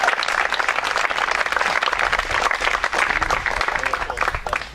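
Dense, loud applause for a baseball coach at a high school senior day ceremony, continuous clapping from a crowd that holds steady for several seconds.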